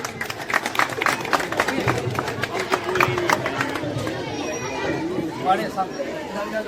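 Applause breaks out at a school quiz contest prize ceremony, a loud crowd clapping steadily throughout, mixed with chatter and a busy hubbub of voices.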